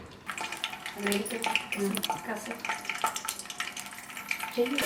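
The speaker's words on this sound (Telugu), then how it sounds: "చిలుతుంది కదా ఆయిల్, వాటర్ ఉన్నది వేడెక్కే వరకు" Oil heating in a pan for biryani sputters and crackles close by, with irregular sharp pops over a soft hiss while a person talks over it.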